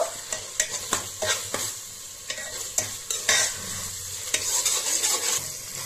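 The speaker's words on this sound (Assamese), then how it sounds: "আদা নহৰু কেঁচা গোন্ধটো নুজোৱালৈকে আপোনালোকে লৰাই থাকিব" Ginger and garlic stirred and frying in a pan for fish pulao, with a steady sizzle broken by repeated scraping clicks of the spoon at an irregular rhythm, close and moderately loud, no voices.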